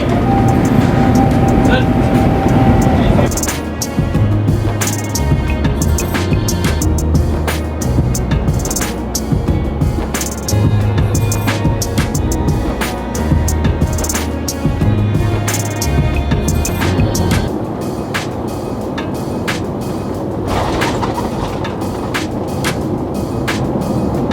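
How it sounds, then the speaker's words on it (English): Inside the cabin of an Air India Airbus A350 during landing, a steady roar of engines and airflow fills the space, with rumbling and rattling from touchdown and rollout; talk is heard over it. "So we're landing now, and look at this, we're about to land"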